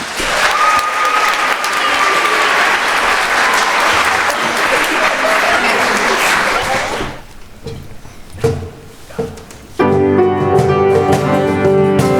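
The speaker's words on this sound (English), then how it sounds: "So can we give them a nice big round of applause?" Audience applause for middle school musicians at a concert, a dense roar of clapping for several seconds that dies away into scattered thumps before music begins.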